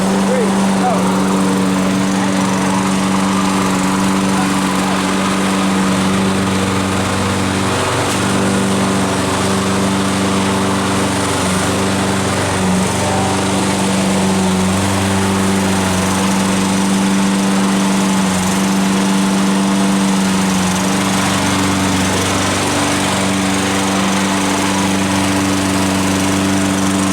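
A Black & Decker cordless electric mower and a gas lawn mower run side by side at full speed, a loud steady engine drone layered with a high electric whine, continuous and close throughout.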